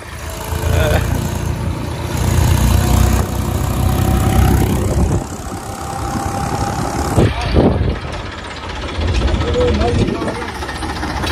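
A tractor's diesel engine idles at a petrol pump while waiting to be refuelled, a loud, steady, rough chugging that runs throughout with voices heard over it.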